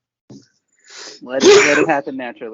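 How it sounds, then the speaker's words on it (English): A single sneeze bursts out close to the microphone between bits of conversation, with someone speaking just before and after it on a podcast recording. "Get a good sneeze in."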